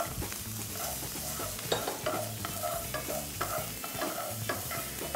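Garlic and jalapeno peppers sautéing in a pan over low heat, stirred busily with a utensil, giving a steady close sizzle with frequent scraping and clattering against the pan.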